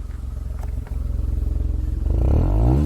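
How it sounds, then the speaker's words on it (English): Hyundai i20 N Line sports exhaust rumbling steadily at idle outdoors, then a single rev rising in pitch near the end, loud and close with no talk. "I'll show you the exhaust note of this car"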